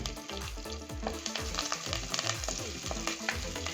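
Onions sauté in a hot pan for mudakkathan keerai soup, with steady sizzling and frying, a constant crackle and occasional scraping as they are stirred.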